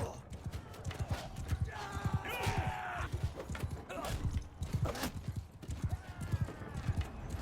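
Horse hooves clip-clop steadily in the medieval video game Mount and Blade Bannerlord, with a horse whinnying briefly amid battle noise and someone talking over it.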